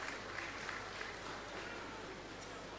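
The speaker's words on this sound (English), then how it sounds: "can we give him a round of applause as he comes on stage?" Audience at a Digital Nigeria International Conference session applauds as the moderator walks onto the stage, a steady, faint wash of clapping with some crowd murmur and no clear voice over it.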